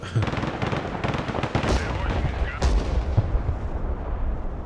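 Units blowing up in Broken Arrow, a modern war strategy game, with dense rolling explosions and booming artillery-like blasts. Repeated sharp detonations stack over a constant roar, loud and continuous.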